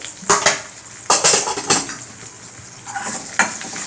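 A spoon clatters and scrapes in a cooking pan as masala for butter paneer masala is stirred, in several close, sharp bursts over a faint sizzle, with no talk.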